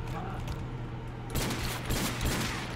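A gold Desert Eagle pistol fires in Call of Duty: World at War custom zombies map Dale's Dock: a burst of loud, crackling gunfire starts partway through and continues, with a player talking over it.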